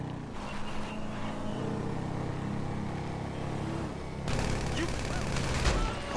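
Dense SMG gunfire in Grand Theft Auto V rattles along as a steady fusillade amid engine and game ambience, growing sharper and louder in the last couple of seconds.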